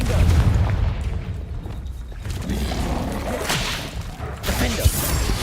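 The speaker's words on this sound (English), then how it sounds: "Confringo." A Confringo spell cast in Hogwarts Legacy, heard as a booming whoosh and fiery crash amid layered game combat effects, loud and close, with a brief voice at the start.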